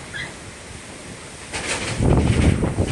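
Strong gusting wind buffets the microphone outdoors, roaring and rustling as it rises sharply and grows heavier toward the end.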